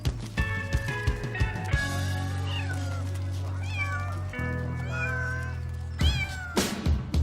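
A domestic cat meows several times in varied, drawn-out calls, close and moderately loud, with some rustling and low background noise between the cries.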